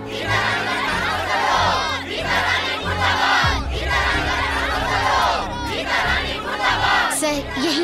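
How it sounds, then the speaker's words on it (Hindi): Large crowd of people chanting slogans together in loud, surging waves of massed voices, close and continuous. "वो मेरे विरुद्ध नारे लगा रहे हैं"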